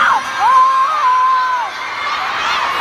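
A concert crowd at a mall show cheers and whoops loudly for a couple of seconds, with a sustained sung note from the stage rising over the shouting.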